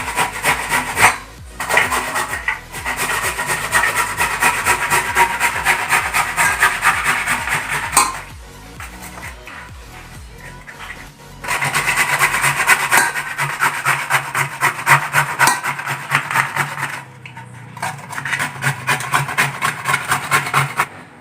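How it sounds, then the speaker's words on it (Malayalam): Tapioca (cassava) is grated by hand, a loud close rasping scrape in rapid rhythmic strokes, broken by brief pauses before the grating resumes. "അപ്പോൾ നമുക്ക് ആദ്യം ചെയ്യേണ്ടത് അരച്ചീനെ ഗ്രേറ്റ് ചെയ്തെടുക്കണം"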